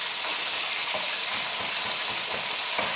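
Vegetables for Thai red curry frying in a hot pan, a steady dense sizzle that stays loud and even throughout, with no speech over it.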